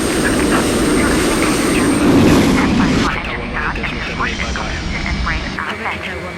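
A simulated Embraer E-195 airliner runs its jet engines in Microsoft Flight Simulator, a loud, steady roar with a high whine that drops partway through, under radio-style voices talking.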